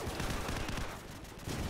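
Gunfire crackles in a first-person shooter video game, a dense, continuous rattle of rapid shots at moderate distance, fairly quiet overall.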